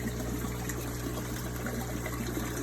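Steady, continuous water trickle from a sponge filter bubbling in an aquarium tank, a soft constant flow with no pauses and no voices.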